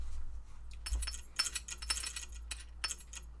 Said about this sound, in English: Super slow clockwork dice going out of here.